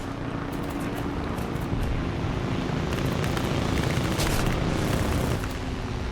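Rapid aircraft gunfire from a P-36A fighter in War Thunder air combat, a dense continuous rattle of bursts over a steady engine roar, loud and close throughout with no talk.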